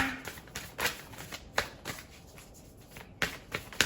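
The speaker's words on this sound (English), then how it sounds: "I will actually draw the cards on camera." Tarot cards being shuffled and drawn by hand: a rapid series of crisp riffling snaps and flicks, close and fairly soft, with no talking.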